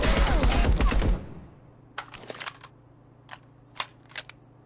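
Hip-fired assault rifle in the Marauders video game opens with a rapid loud burst of automatic fire lasting about a second, then stops, followed by a handful of scattered sharp clicks and clacks over a low steady hum.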